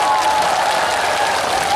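Audience applause at a live trot concert with a nightclub-style medley in Gangjin: a dense, steady wash of clapping held at an even, loud level for under two seconds, with a faint sustained tone running underneath.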